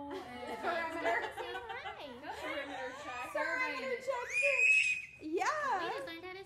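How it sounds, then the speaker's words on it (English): Baby screaming in a kitchen, shrill squeals and whiny cries mixed with adult chatter nearby, with one long high-pitched shriek near the end. "We just learned how to scream."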